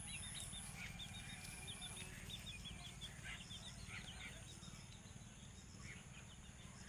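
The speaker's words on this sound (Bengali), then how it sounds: "এই সব এখানে মুরগিগুলো চড়ে বেড়াচ্ছে।" Chickens roaming a green village yard, faint scattered clucks and chirps over a constant insect drone, distant and soft with no talk.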